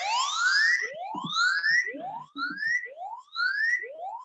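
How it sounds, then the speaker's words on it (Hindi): A phone app plays a siren: a loud, close series of rising electronic whoops, each sweeping upward and repeating about every half second, with a few faint low clicks between them. "आप देख सकते हैं यहाँ पे सायरन बज रहा है"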